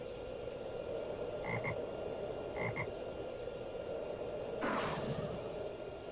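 Deep frog croaks in a video game sound twice in quick succession, then a breathy snort-like burst, all over a low steady ambient hum.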